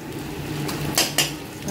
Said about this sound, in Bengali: সমস্তটা দিয়ে ভালো করে নাড়িয়ে চাড়িয়ে কষিয়ে নিলাম